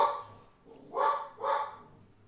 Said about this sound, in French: Le chien est en forme aujourd'hui.